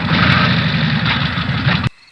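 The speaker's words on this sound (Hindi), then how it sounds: "सुभाष ने जल्दी बाइक स्टार्ट की" A motorbike engine runs loud and steady at close range with a rough low rumble, then cuts off abruptly near the end, leaving near silence.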